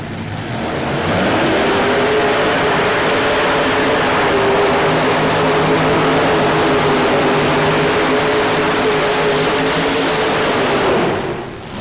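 A tractor pull entry's engine roars loud and steady at a 1995 farm machinery show, rising quickly, holding a sustained throaty drone for about ten seconds, then easing off near the end.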